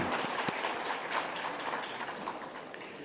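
Audience applause at a celebration of the 14th Dalai Lama's 90th birthday, a steady moderate wash of many hands clapping with a few sharper claps, fading slightly toward the end.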